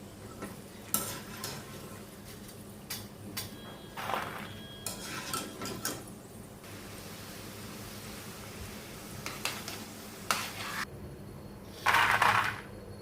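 Coated masala peanuts roasting in a pan over low heat, stirred with a utensil; intermittent scraping and rattling clinks against the pan over a faint steady sizzle, with a louder clatter near the end.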